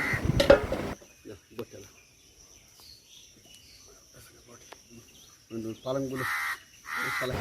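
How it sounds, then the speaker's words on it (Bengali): Crows cawing around bamboo trees in a rural Sundarban village, harsh calls coming in bursts near the start and again toward the end, with quieter scattered sounds and some clatter between. "বাঁশ গাছের সব জায়গায় চারিদিকে কাক তো ভর্তি হয়েই গেছে"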